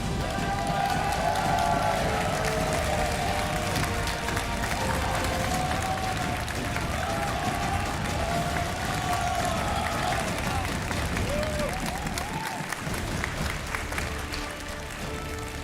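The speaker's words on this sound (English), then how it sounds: "all I heard was just a thunderous foot stomp in the arena" An arena crowd at a Clash of Clans World Championship finals, a continuous roaring mass of cheering, applause and rumbling foot stomps that stays loud and dense for about fifteen seconds, with shouts rising out of it.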